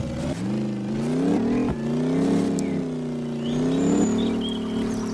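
A pickup truck engine in the video game Truckful starts and then drives, holding a steady droning hum that climbs and settles as the revs change, loud and continuous with no talking.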